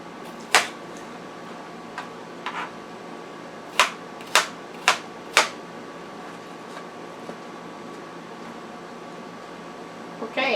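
A knife cuts a cucumber into strips on a cutting board, giving a handful of sharp, distinct chops spaced irregularly, a quick cluster of four in the middle, over a faint steady room hum.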